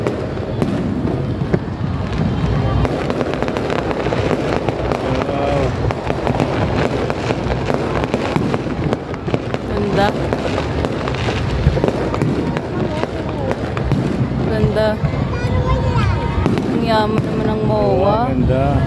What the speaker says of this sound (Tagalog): sana nag-enjoy rin kayo sa fireworks dito sa BOA